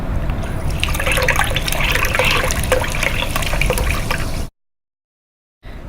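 A drink pours from a Physomatic 3000 drink-dispensing machine in a continuous, close splashing trickle of liquid that cuts off abruptly near the end, then resumes briefly after a moment of silence.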